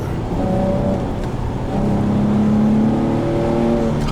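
An Infiniti G35 Coupe with a manual gearbox drives at night, its engine droning loudly and steadily, the pitch dipping and then climbing again as it revs through a downshift.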